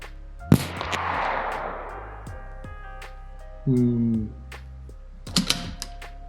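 Sharp rifle reports from .22 LR ammunition at a shooting range, two or three separate cracks spaced several seconds apart with a trailing rumble after the first, and a low hum between shots.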